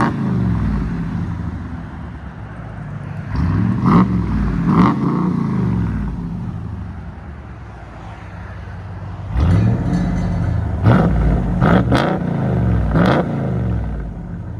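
A 2016 RAM 2500 with the 6.4L HEMI V8 and a Flowmaster Outlaw exhaust idles after a cold start on a chilly day, holding a deep steady rumble with several loud throttle blips and revs standing out.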